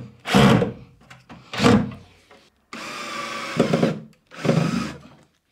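Cordless drill driving wafer-head screws into angled pre-drilled holes while building a sturdy shelf for Euro boxes, heard as four loud bursts of motor whine, each about a second long, separated by short pauses.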